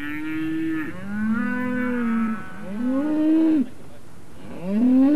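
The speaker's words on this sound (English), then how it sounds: "it's time to get the cattle down to the lowland pastures in the valley" Cattle moo repeatedly in long, loud, close calls, several animals overlapping with brief gaps, as the herd is driven down from hill pasture to lowland valley fields in mid-October.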